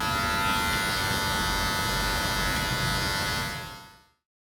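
A Wahl hair clipper buzzes loud and steady for about four seconds while blending a trimmer line at a barbershop, then winds down quickly to silence.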